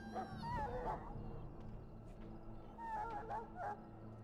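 A sick dog in a pen in Dragon Age: Origins whimpers and whines in two short wavering bursts, faint, over a low background drone.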